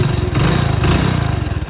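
A warm, freshly serviced motorcycle engine with a worn piston idles loudly and close up, a steady, throbbing mechanical drone that continues without pause.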